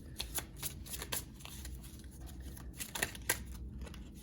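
A deck of tarot cards is shuffled by hand in several quick riffling bursts, close and fairly quiet, with no talking.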